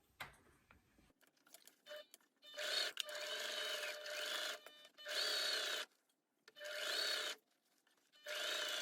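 A sewing machine stitches skirt pieces together in four quiet bursts of rapid whirring, separated by short pauses with faint handling noises.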